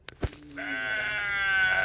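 A goat bleats close by in one long, wavering, nasal cry that holds steady to the end, just after a soft thump.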